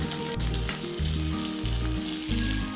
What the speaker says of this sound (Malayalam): ഈ സെയിം എണ്ണയിലേക്ക് ചെറിയ ഉള്ളി, പച്ചമുളക്, കറിവേപ്പില ചേർക്കാം.